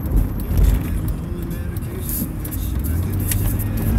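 Road traffic near an intersection: a continuous low rumble of passing cars and heavier vehicles, fairly loud and close, with engines swelling briefly at moments.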